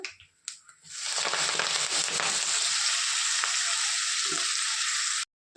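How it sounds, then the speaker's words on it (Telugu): Washed spinach hits hot oil with cumin, mustard seeds and turmeric, bursting into a loud, steady sizzle of frying that lasts several seconds before stopping suddenly. "ఇప్పుడు మనం కడిగి పెట్టుకున్న పాలకూరను పెట్టేద్దాం"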